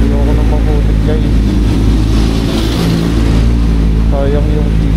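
Motorcycle engine drones steadily and loudly on a delivery ride over a very muddy road, the close, continuous rumble rising slightly midway, with a voice speaking over it.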